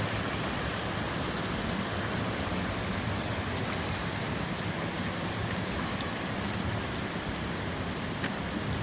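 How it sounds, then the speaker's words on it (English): Water flows steadily through rock pools at the top of a waterfall, a constant soft rushing wash with no pauses and no voices. "This is the top part before the waterfall, where the rock pools are."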